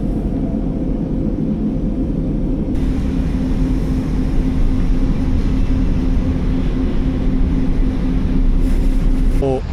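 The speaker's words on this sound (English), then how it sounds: "let's get on the tram to Büyükada to the ferry" Steady loud rumbling of a tram in motion in Istanbul, a continuous drone with a low hum throughout, no talking.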